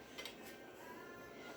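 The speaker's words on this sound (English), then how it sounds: "Let me just put my lid on some of these things" Metal pot lids are set onto cooking pots in a kitchen while clam fritters cook. The lids give a faint, quick, tambourine-like clatter against a low background hiss.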